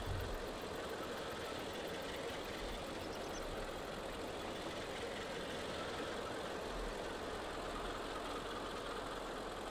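Steady vehicle engine idling in Farming Simulator 22, a revived abandoned wreck in a farming roleplay, a continuous low rumble that stays even and fairly loud throughout with no talk over it.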